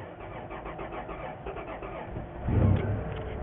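A green van's engine cranks with a rough, uneven churn, then catches with a louder surge near the end before settling to a rumbling idle, close by and without talk.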